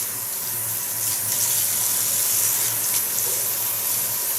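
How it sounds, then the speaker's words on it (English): Water running steadily from a tap in a salon while bleached hair is wetted, a continuous even hiss close by with no talk over it. "I just supply a little bit water on there"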